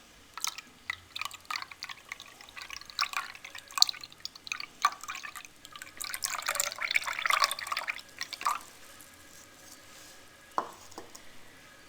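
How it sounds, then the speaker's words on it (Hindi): Strained tamarind water, seeds removed, is poured for pani puri. Close splashing and irregular drips run in bursts before trailing off to a few scattered drops, with no talking. "अब इसमें हम इमली की गुठलियाँ निकाल के इसको अलग करके इसका पानी डाल देंगे।"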